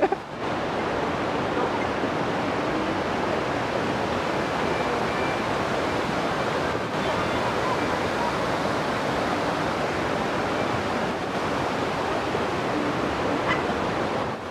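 Water of the Sardu river rushes in a constant, dense roar, loud and close, running unbroken with no voices over it.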